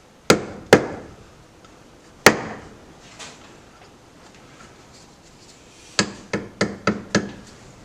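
Hammer blows strike a metal part while a head gasket is replaced on an Allis Chalmers B tractor. A few sharp, separate knocks come first, then a quick run of five blows near the end.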